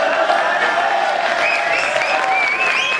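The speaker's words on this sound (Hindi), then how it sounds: "रांगा जी के लिए जोरदार तालियां" Vigorous audience applause rings out for a qawwali composer and lyricist, thick, sustained clapping with a held musical tone running beneath it.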